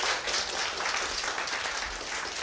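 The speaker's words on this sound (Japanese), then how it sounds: "岩井さんに拍手をお願いします" An audience at a Ruby programming conference live-coding event applauds in a hall, a dense, steady patter of many hands clapping throughout at moderate volume.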